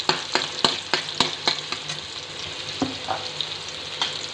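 Onion frying in a pan for a gokhru (saratyachi) leaf vegetable dish, with a crisp sizzle under rhythmic spatula taps and scrapes, repeated about twice a second early on, then sparser.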